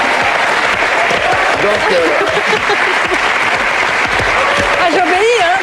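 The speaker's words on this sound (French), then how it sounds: "on est en train d'applaudir les pubs là" A television studio audience applauds steadily and loudly through a commercial break while a presenter talks over the clapping.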